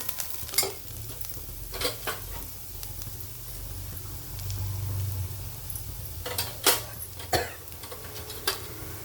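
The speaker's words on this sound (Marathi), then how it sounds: "कांदा पण आपला चांगला परतला आहे आणि अगदी कमी तेलात आपण याला परतून घेतलेलं आहे" Onion and green chilli sauté in a little oil in a kadai, a soft continuous sizzle broken by scraping stirs of a spoon against the pan at irregular intervals, close and without talk.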